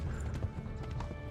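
Horse hooves canter in the medieval video game Kingdom Come: Deliverance, a quick series of soft rhythmic clip-clop beats at moderate distance, fairly quiet and unaccompanied by talk.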